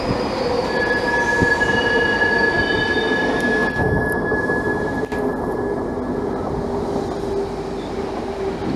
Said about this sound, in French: ici c'est le triage qui se fait par roue libre des wagons